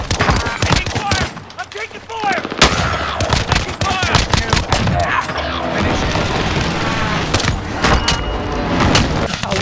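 Rapid automatic gunfire and bursts from Call of Duty Warzone, dense and loud throughout, with players talking excitedly over the shooting.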